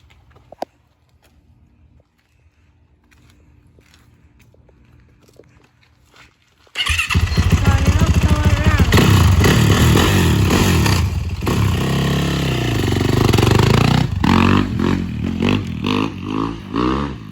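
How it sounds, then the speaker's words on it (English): A 2021 Yamaha YZ450F dirt bike, rebuilt once, fires up after a quiet garage moment and then revs hard and loud up close, its engine rising and falling through repeated throttle blips with clattery mechanical noise. "So that was the 2021 Yamaha YZ450F."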